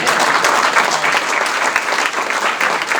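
Loud, sustained applause from a crowd at a building grand reopening, dense clapping filling the whole stretch without letting up.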